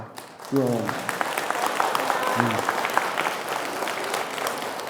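Listeners clap warmly during a monk's Buddhist dharma talk at Dorimsa temple, bursting into sustained applause with a few brief voices and laughter on top.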